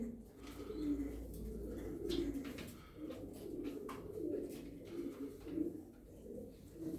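Pigeons, Austrian king pigeons sitting on eggs and young, coo steadily in low, rolling murmurs, several birds overlapping close by, with occasional faint chirps above the continuous cooing.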